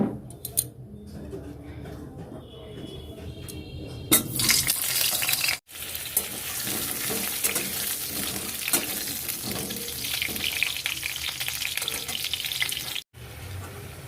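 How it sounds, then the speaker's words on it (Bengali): Potatoes frying in a hot pan for a Bengali home meal, a steady loud sizzle that starts partway through after quieter clatter and continues with brief breaks, close, with some faint talk underneath. "গরম হয়ে গেছে গো, চলো আলুগুলো চাপাই।"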